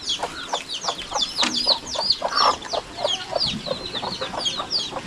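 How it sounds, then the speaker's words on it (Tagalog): Chickens and young chicks cluck and cheep together nearby, a busy overlapping chorus of short calls and peeps running throughout. "May bagong sisiyo tayo dito."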